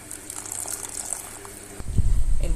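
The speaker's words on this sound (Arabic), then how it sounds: "هنحتاج كمان شويه ميه." Water gushes into a pot of Egyptian koshari holding rice, pasta and lentils; quiet kitchen clatter is followed by a sudden louder pour that runs to the end.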